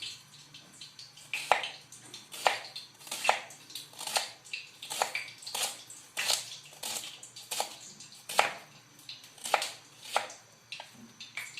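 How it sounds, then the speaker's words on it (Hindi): A knife chops two medium onions on a board in quick, steady strokes, a close, crisp repeated tapping that runs evenly throughout. "जितनी देर हमारा घी गरम होगा उतनी देर हम अपना ऑनियन काट लेंगे"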